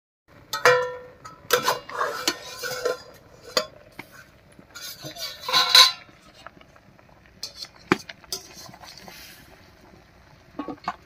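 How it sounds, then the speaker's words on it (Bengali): A metal lid is lifted off a pot of boiled green bananas and potatoes, followed by scattered clinks and clatters of cookware as the pot is taken off, close by and fairly sharp. "এবার ঢাকা খুলে নামিয়ে নিচ্ছি।"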